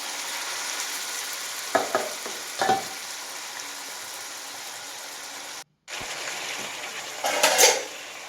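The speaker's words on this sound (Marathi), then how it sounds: "आता हे ह्या कांदा भाजून घेतलेलं तेल होतं ना त्याच तेलात मी हे चिकन शिजायला टाकणार आहे" Marinated chicken going into oil previously used to fry onions, for a quick chicken dum biryani; a steady low sizzle runs throughout with a few brief scraping bursts and a louder crackling flare near the end.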